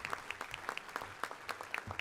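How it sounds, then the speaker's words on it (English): Audience applause fills a convention center during a morning breakfast event, a steady crowd of hands clapping with no voices over it. "round of applause for the welcoming committee"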